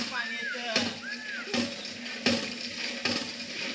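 A hand pump being worked, its water splashing and sloshing in regular strokes under one another roughly every three-quarters of a second, with squeaky, voice-like tones drifting over the steady gush.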